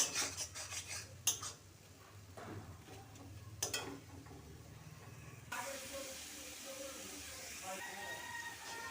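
Taro stalks stirred in a pan over a low gas flame while their juice cooks off, with metal utensil scrapes, clinks and a steady hiss, and a voice speaking over the first half.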